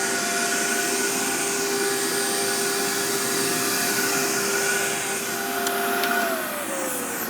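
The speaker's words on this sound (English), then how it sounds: "Is this a CMS 1000? Amway's old vacuum?" An old Amway CMS 1000 vacuum cleaner runs steadily with a loud, continuous whine and motor hum, its tone dipping slightly near the end.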